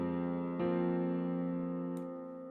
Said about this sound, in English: we could try to do it with the suspended 4 chord,